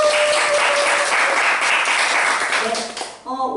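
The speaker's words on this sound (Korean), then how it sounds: "자, 박수!" Dense, continuous applause at a children's church service, loud and steady before tapering off, with a voice starting to speak right at the end.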